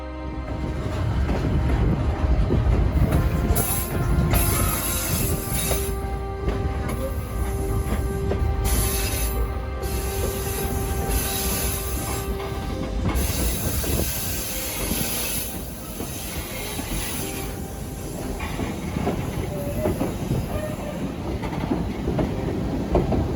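Passenger carriages on an Alaska mountain railway roll steadily with a loud low rumble, rhythmic wheel clatter and occasional squeals, with no talking.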